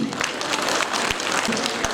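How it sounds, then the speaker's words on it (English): A crowd claps steadily at an annual day award ceremony, a dense, even burst of applause filling the whole moment without pause. "please welcome them with a loud round of applause"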